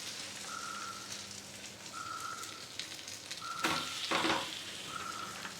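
Bread frying in homemade butter in a pan gives a soft, continuous sizzle with a spatula scraping and clattering near the end, and a faint repeating beep sounds in the background.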